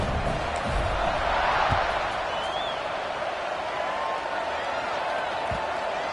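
A college football stadium crowd at Temple versus Michigan, a broad, steady roar of distant voices before kickoff, with a few thumps and a whistle-like tone over the continuous crowd noise.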